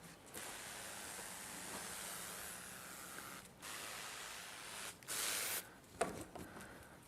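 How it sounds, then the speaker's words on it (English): A Solo pump sprayer spraying paint gives a soft, steady hiss through most of the clip, briefly stopping and restarting near the end with a few louder spurts, close but quiet. "This Solo sprayer is freaking awesome."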